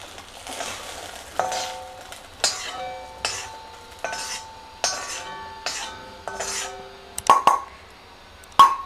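Chana dal, urad dal, cumin and dry red chillies roast in a pan. A spatula strikes the metal in a steady series of sharp clinks about every second, ending in two louder ringing knocks, with no talking.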